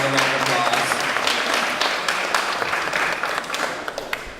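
Audience applause at a talk on end-of-life care, a dense steady round of clapping from a crowd that slowly thins and fades toward the end.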